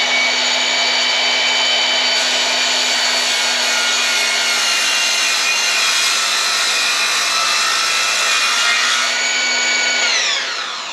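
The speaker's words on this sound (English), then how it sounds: "Just make sure the saw comes to a complete stop before lifting it up." A table saw runs steadily with a loud, sustained whine while cross cutting wood for a cross cut sled, then spins down near the end as the blade slows to a stop; no one speaks.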